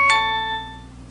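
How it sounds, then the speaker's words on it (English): An LG Octane VN530 phone plays its doorbell ringtone: one bright chime struck near the start that rings on and slowly fades, loud and close. "doorbell"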